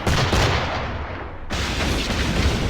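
Gunboats fire cannons in Assassin's Creed IV: Black Flag during a naval fight, a loud, rolling barrage of booms with a brief dip in the middle before the heavy firing resumes.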